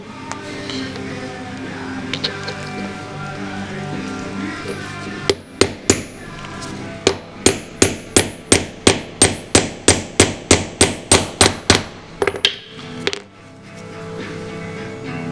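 A hammer taps on a copper drift in a quick, regular series of about fifteen sharp, ringing strikes, close by, after a few quieter clinks, while working on a Honda oil pump.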